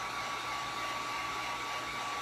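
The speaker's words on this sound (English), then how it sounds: "you can use a hairdryer" A hair dryer blowing steadily, a loud continuous airy whoosh with a faint motor whine and no pauses or voices.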